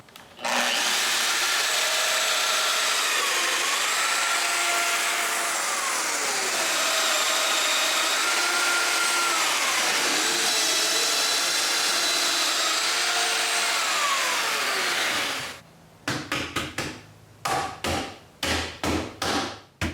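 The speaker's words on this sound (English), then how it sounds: "When I'm done, I remove the clamps and drill the mortises." A power drill bores mortises into a cedar patio table with a loud, sustained whine for about fifteen seconds, its pitch sliding as the load changes, followed by a series of short, sharp knocks and rattles.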